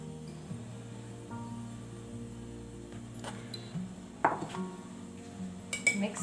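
Coconut mixed into condensed milk pudding in a baking dish, heard as soft scraping and occasional clinks of a utensil against the dish, close, with a steady background hum.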